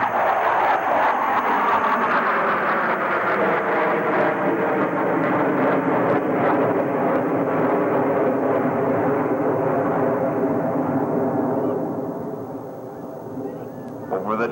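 Blue Angels jet aircraft flying in formation during an airshow produce a loud, steady roar of jet engines that holds for many seconds, then eases slightly near the end.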